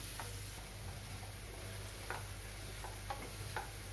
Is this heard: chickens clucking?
no